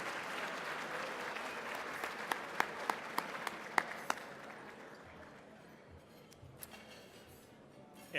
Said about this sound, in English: Let's give our Education Foundation supporters a big round of applause.